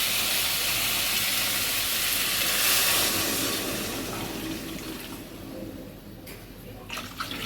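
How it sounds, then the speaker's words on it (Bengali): Water pours into a pot of fish egg bora curry in a home kitchen, a steady broadband rush that runs for several seconds and then thins and fades toward the end. No talk is heard. "জল দিয়ে ঢেকে দেবো।"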